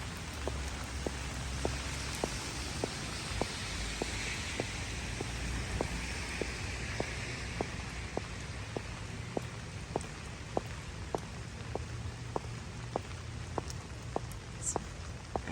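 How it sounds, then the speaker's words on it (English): Rain falls steadily on Fountain Square in downtown Bowling Green, Kentucky, a dense hiss of drops with regular ticking drips on a nearby surface, continuous and fairly close, with no talking. "Probably hear that the rain is a little bit heavier."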